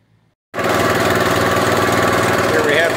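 An Almaco LPT G plot thresher starts up after a brief silent moment and then runs steadily with its engine idling, a loud, dense, even mechanical drone with rapid rattling that holds without a break to the end.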